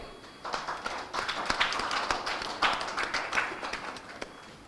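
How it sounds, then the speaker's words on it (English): An audience at an academic panel on Indo-Pacific social sciences applauds to welcome the panelists: a moderate, steady patter of many hands that swells after the first half-second and tapers off near the end, with no talking. "Please join me with a big round of applause to welcome them."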